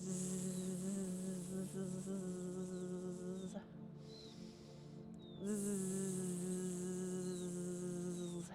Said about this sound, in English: Creating that energy with that buzzing breath.